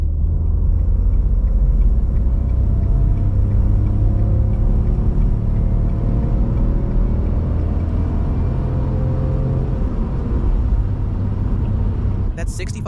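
A Renault Twingo SCe with a 65 hp engine accelerates hard onto a highway, its low engine drone and road rumble filling the cabin as a steady, loud, continuous roar that builds slowly, with a brief sharp noise near the end.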